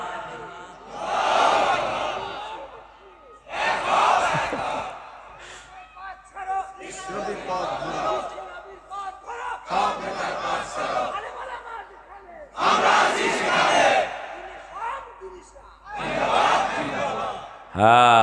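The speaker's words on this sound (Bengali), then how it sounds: "হ্যাঁ, স্লোগান টানেন না?" A crowd at a religious waz gathering chants slogans in loud, surging bursts of many voices, each a few seconds long with brief quieter gaps between them.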